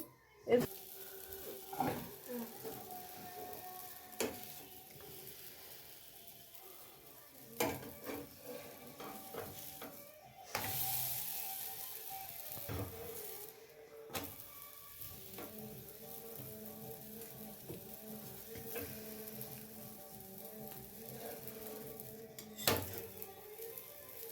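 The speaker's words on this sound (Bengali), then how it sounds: "এবার এটাকে তেলে সেঁকে নেবো" Aloo paratha cooks in oil on a pan with a soft, quiet sizzle, punctuated by scraping and clinking of a spatula against the pan and occasional louder knocks.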